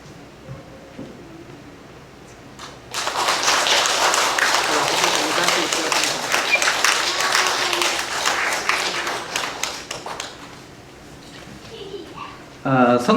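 A congregation at a Sunday service at Suncheon Dongmun Church applauds during a certificate ceremony. Sustained, full clapping fills the middle stretch of the clip after a quieter start, with speech before and after it.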